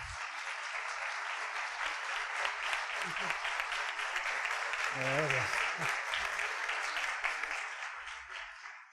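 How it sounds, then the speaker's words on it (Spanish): An audience applauds a speaker at a talk on digital money, with steady continuous clapping throughout and a voice briefly speaking over it. "un fuerte aplauso para don Alejo Moreno"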